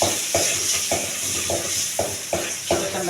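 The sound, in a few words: mustard seeds spluttering in hot oil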